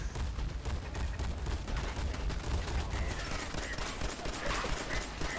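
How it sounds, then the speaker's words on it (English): Rapid, dense bursts of explosions and blasts from grenades going off in Fallout 4 fill the scene continuously, loud and close with no gaps between impacts. "That was a lot of grenades. That's a lot of grenades."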